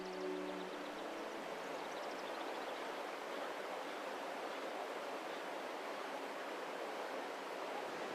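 The Jerte river rushes steadily nearby, a dense, even wash of flowing water that holds constant throughout, with no voices.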